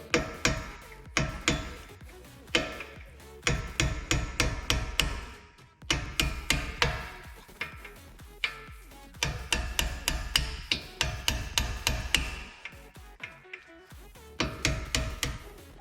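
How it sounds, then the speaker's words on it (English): Repeated sharp metallic knocks of a hammer driving a smaller punch against a brake pin on a 2018 Jeep SRT, struck in quick irregular bursts with brief pauses, close and fairly loud with no talking. "Then use your smaller punch without the cloth and very carefully punch it out."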